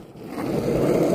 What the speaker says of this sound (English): I'm just gonna skate your driveway real quick.